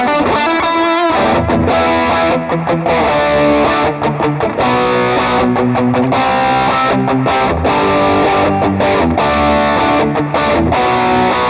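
An electric guitar played on the bridge pickup through a Valeton GP5 distortion setting with a tube screamer added gives a loud, saturated, heavily gained tone with steady chugging rhythm and sustained chords throughout.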